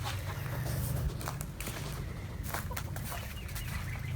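Hens cluck and shuffle in a coop, with scattered soft calls and brief flutters of wings over a steady low hum, fairly quiet and close.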